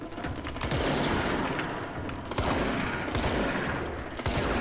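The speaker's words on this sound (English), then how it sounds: "Shotgun blast to the face." Shotgun fire in the video game Control, loud dense blasts packed into rapid bursts, with two sharp jumps in level, all close and without talk.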